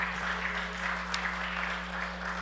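A church congregation claps together during a worship service, producing a steady, dense patter of applause with a low electrical hum underneath and no voices.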